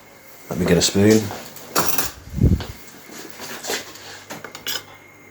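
Cutlery clinks and rattles against a pot and dishes beside a woodstove, a few close metallic knocks and scrapes, with a voice speaking over part of it.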